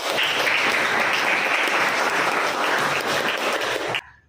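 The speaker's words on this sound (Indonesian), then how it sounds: "kita berikan tepuk tangan" A classroom audience gives a loud, steady round of applause for about four seconds, dense clapping that stops abruptly near the end.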